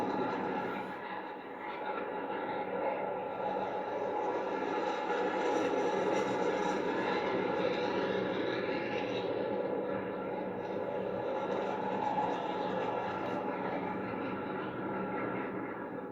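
The Boom XB1 supersonic jet climbs after takeoff with a broad, steady roar that holds for the whole stretch, distant and even, with faint voices at times.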